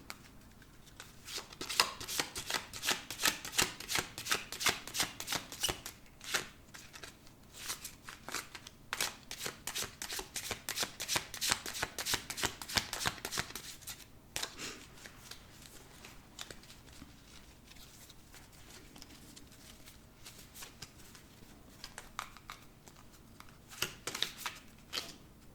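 Deck of cards being shuffled by hand, with dense runs of quick flicking riffles in repeated bursts and softer handling between them, close and quiet, with no talk.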